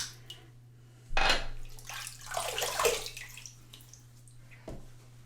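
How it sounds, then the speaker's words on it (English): Water splashes from a tap while a face is rinsed after a wet shave, with a loud gush and splashing for about two seconds, then fading, and a single later splash against a steady low hum. "let's have a rinse"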